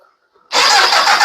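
A speedway car engine catches instantly after a brief near-silent pause, bursting into a loud, raw, steady roar that holds to the end.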